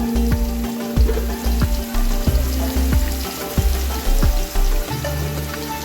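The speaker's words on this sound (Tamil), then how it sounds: "வெங்காயம் போட்டு நல்லா வதங்கி பட்டை ஏலக்காய்" Onions with cinnamon and cardamom sautéing in a pan for spicy chicken dum biryani: a loud, close sizzle punctuated by a regular series of heavy spoon knocks and scrapes, with no speech.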